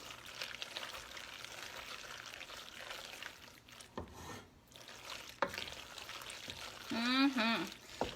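Macaroni and cheese stirred after a splash of milk, a wet, soft squelching and faint sizzle from the pot with occasional spoon scrapes, ending with a brief voice near the close.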